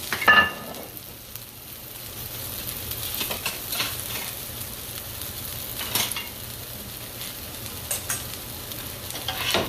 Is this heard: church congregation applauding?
no